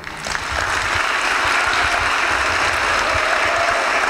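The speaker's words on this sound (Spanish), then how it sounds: "Pido entonces aplausos a la Escuela del Cojobal" A large crowd applauding steadily and loudly, a dense wash of many hands clapping that builds quickly and holds without pause.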